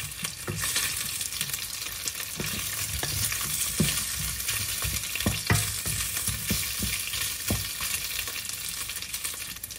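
Garlic sautéing in a pan sizzles and crackles steadily while a utensil stirs it with repeated scraping knocks.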